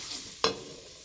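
Finely chopped onions fry in a pan while being stirred, a soft steady sizzle broken by one sharp scrape or clack of a utensil partway through.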